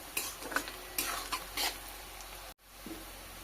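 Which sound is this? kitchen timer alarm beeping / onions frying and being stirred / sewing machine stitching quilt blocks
onions frying and being stirred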